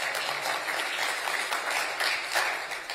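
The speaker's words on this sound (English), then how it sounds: "clap, follow him and clap," Steady audience applause fills a company's annual general meeting, many hands clapping densely and evenly for several seconds at a moderate level, with no voices over it.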